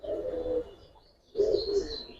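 Pigeons of the black-necked Giribaz colouring breed coo in two low, throaty bursts separated by a short pause, close and fairly loud, with a few faint higher chirps over the second burst.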